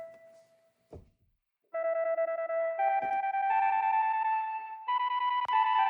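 A bell-like synth preset on a keyboard in Ableton Live, struck once and repeated by a note echo effect into a sustained chain of bright, stepped ringing tones, loud and alone.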